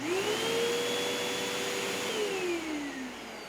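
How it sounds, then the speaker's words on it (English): A 12 amp vacuum cleaner powered from a Jackery HomePower 3000 power station starts up with a rising whine, then holds a steady, loud motor drone that eases slightly in pitch near the end. "Next, we'll be stepping it up to the 12 amp vacuum."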